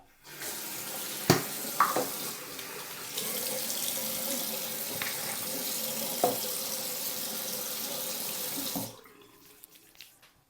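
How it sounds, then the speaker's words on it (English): A bathroom sink tap runs steadily while someone washes their face, water splashing close to the microphone with a few clunks and hand splashes before the flow shuts off near the end. "Is you wash your face."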